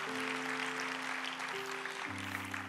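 Congregation at an online church service applauds, a soft, steady patter of clapping heard faintly beneath sustained keyboard chords that shift partway through.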